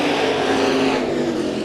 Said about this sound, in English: Heat race number 2 for the IMCA stock cars.